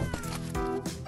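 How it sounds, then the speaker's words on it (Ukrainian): A hungry kitten gives a few close, whiny meows in quick succession, loud and plaintive, with no talk. "Здається, я знайшла голодне кошенятко."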